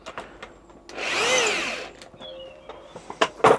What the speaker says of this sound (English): I'm just using a drill just to speed things up with a screw.